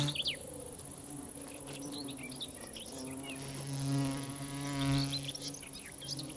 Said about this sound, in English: The bee wolf is a digger wasp that specializes in killing bees.